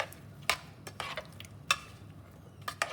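Sambar powder is stirred into vegetables in a pot with a utensil, giving irregular scraping and clinking strokes over a faint sizzle.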